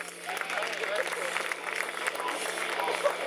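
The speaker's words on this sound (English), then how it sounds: "how about a round of applause for the jumpers out there?" Outdoor crowd at a ski jumping show applauding the jumpers, a steady wash of many hands clapping at a distance, even and sustained with faint voices mixed in.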